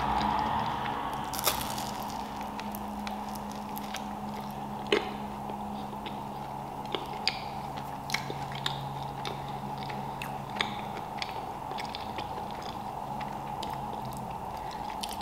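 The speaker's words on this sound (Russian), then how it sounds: "Сегодня будет много чавкающих звуков." Close-up chewing and biting of a soft cheese bun, with occasional crisp bites and squishy mouth sounds over a faint steady background hum.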